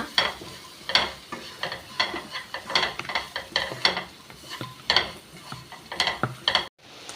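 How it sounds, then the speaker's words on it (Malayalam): Jackfruit seeds for a roast, salted, are stirred in a pan with repeated rhythmic scrapes and clatters of the spoon over a soft sizzle, continuing briskly for several seconds before stopping abruptly. "നമുക്കെല്ലാം ഇട്ട് ഇളക്കാം"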